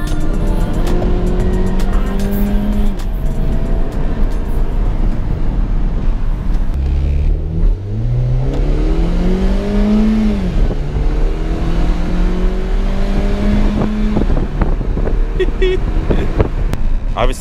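A Mini Cooper engine revs hard and drops through paddle-shift downshifts, heard loud from inside the car with steady road and engine roar and rising, falling pitch sweeps.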